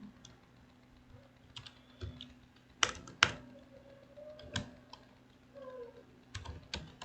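Computer keyboard typing HTML table code, heard as scattered clicks and short bursts of keystrokes at close range, with a few louder taps, over a steady low hum.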